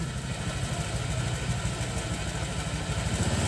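A stock Honda motorcycle engine runs steadily during a throttle test, a close, continuous mid-to-low drone with a rapid pulsing beat that holds at an even level, alone without speech.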